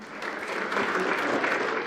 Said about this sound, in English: The play earned some frenetic applause.